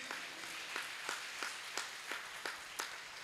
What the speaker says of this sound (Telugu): అందరూ ఒకసారి చప్పట్లు కొట్టండి.